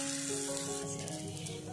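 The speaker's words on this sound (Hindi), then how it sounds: "तवा हमारा गर्म हो चुका है, अभी हम इसमें फ्राई करेंगे" Kerala parotta frying on a hot tawa gives a soft, steady sizzle, close but fairly quiet, with no talking.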